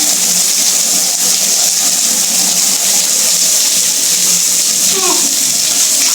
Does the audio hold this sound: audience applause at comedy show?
no